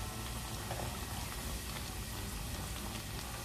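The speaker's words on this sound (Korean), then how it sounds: "이렇게 튀기는 과정에 반죽이 또 이렇게 부풀어 오릅니다" Dense, steady sizzling and crackling of youtiao dough sticks deep-frying in hot oil over medium heat, continuous and close, with no pauses.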